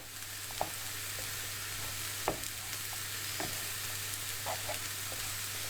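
Chicken fajita filling with condiments sizzles steadily in a pan, a constant soft frying hiss with occasional light taps and scrapes of a utensil stirring through it, close and with no speech.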